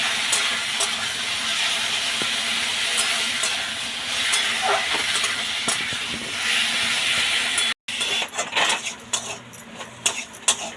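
Chicken pieces for an egg chicken roll fry in oil over a medium flame with a steady, loud, hissing sizzle. After a brief break, a spatula stirs and scrapes against the pan in irregular clinks.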